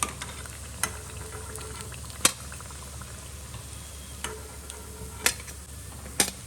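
Wheat flour kachori stuffed with potato and onion frying in hot oil, giving a steady close sizzle broken by a few sharp, isolated pops and crackles, with no voices.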